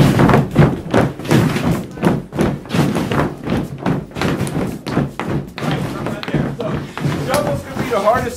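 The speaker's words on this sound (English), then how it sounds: "suddenly you're going to put a two-sound shuffle, two beats really quick together" Flatfoot clogging shuffle steps, feet tapping out quick doubled shuffle beats followed by single steps on a floor, close and steady in rhythm, with dull thuds throughout.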